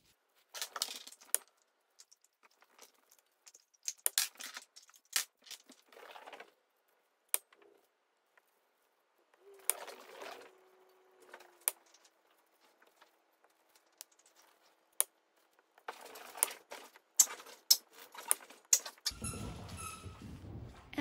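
Cold process soap bars with a glittery top being cut: sparse, quiet clicks, taps and scraping knocks of the cutter against the loaf, spaced irregularly, followed by a brief louder rustle at the end.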